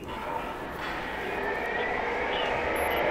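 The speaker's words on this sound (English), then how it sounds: "before we go to our destination, we'll go for an actual takeoff" Aircraft engine roaring steadily during a takeoff run in the flight game Frontier Pilot Simulator, a continuous broad drone building slightly in loudness, with a faint high tone near the end.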